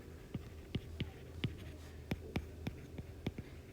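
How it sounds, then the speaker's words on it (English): Pen or marker strokes for maths formulas written by hand, a quiet series of short taps and scratches in an irregular rhythm, close and soft, over faint room hum. "So I'm going to write your formulas here."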